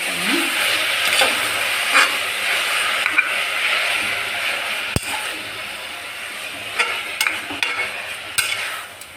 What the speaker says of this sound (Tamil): கீரை புளிச்சக்கீரை, கொஞ்சம் கொஞ்சமாக போட்டு வதக்கணும்.